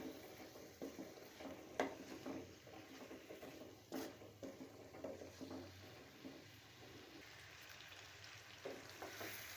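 A potato cutlet mixture is stirred and cooked in a pan, giving a faint, continuous sizzle broken by soft scraping strokes and occasional light knocks.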